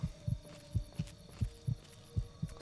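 Heartbeat in the video game Fallout 3, a steady series of low thumping double beats repeating roughly every half second over a faint ambient hum, with no talking.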